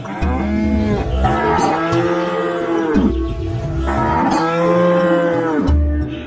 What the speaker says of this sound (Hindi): गाय डर के मारे जोर जोर से रंभाने लगती है